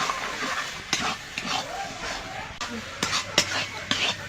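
A batter-like mixture being stirred in a pan for a prawn and bottle gourd dish, with soft scraping strokes and light sizzling, close up, with a few sharp clinks of the utensil hitting the pan.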